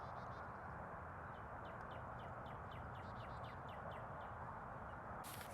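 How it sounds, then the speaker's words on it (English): Small birds chirp outdoors in a steady series of short, bright calls over a broad wash of wind or ambient noise, moderately distant and fairly faint. "you can't really see them, but you can hear the chirping, right?"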